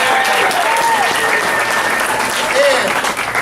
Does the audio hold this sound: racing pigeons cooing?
no